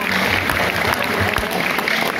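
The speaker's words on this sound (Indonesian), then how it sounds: "Tepuk tangan buat kita semua." An audience at a school road-safety session run by police claps, a dense, steady wash of applause that holds at an even, fairly loud level for the whole stretch.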